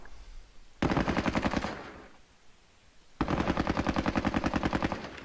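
Automatic gunfire from the Squad Battles Soviet-Afghan War video game rattles in two loud, close bursts of rapid, evenly spaced shots, the first about a second long and the second lasting around two seconds, separated by a short quieter pause.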